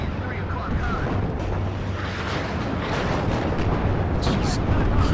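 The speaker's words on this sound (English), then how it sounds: "Artillery coming into the T-80 BVK, certainly helping out quite a bit" Artillery shells pound a T-80 BVK tank in WARNO, a dense rumbling barrage of booms and crackling impacts rolling continuously, with someone talking faintly underneath.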